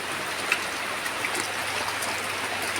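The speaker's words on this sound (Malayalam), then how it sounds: "നല്ല മഴയാണ്" Steady rain hisses over a flooded home yard in Kerala, with water running and trickling nearby, fairly even and moderate with no talking.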